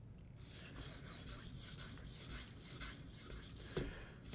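A Spyderco Endura knife with a K390 or S30V blade is sharpened freehand on a stone, giving a steady series of soft, close rasping strokes with no talking.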